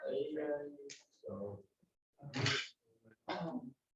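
In a classroom, several short, loud vocal bursts come in a row with pauses between them, including sharp sneezes, close to the microphone.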